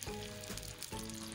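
Food browns in a frying pan while cooking a traditional Algerian dish, giving a steady, close crackling sizzle with no talking.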